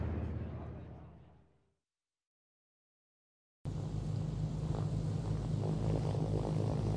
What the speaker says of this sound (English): Bomber aircraft.